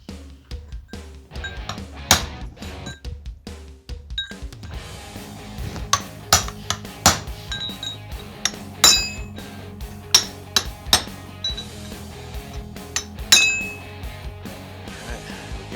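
Metal chisel hammered against a bearing outer race on a Predator-engine frame, giving a string of sharp clinking strikes at an uneven pace with a steady hum underneath and no talk.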